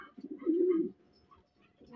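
A pigeon coos softly, a low rolling call from close by, with faint chirps and background sounds around it.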